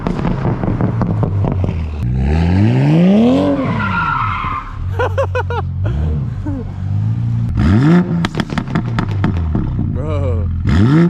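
Maxed-out burble tune on a Toyota Supra MK5 as its engine revs hard, rising and falling sweeps with sharp crackling pops, loud and close, while people talk over it.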